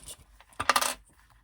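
Small sewing clips being snapped onto zipper tape, a few light plastic clicks and a brief rattling clatter, close and quiet with no talk.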